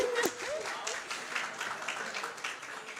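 A church audience breaks into applause, a fairly soft, steady patter of many hands clapping together, with a voice rising briefly at the start.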